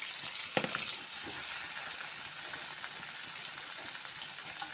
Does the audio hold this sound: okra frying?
yes